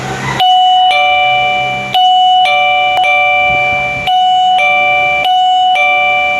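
An electronic doorbell chimes repeatedly, clear ringing tones repeating in a steady pattern, close and loud with no talking.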